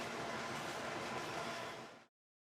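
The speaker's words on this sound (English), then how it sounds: "I'm on an Elizabeth Line train heading for Manor Park" Steady broadband rumble and hiss of an Elizabeth Line train running toward Manor Park, heard from inside the carriage, constant and fairly loud before cutting off abruptly.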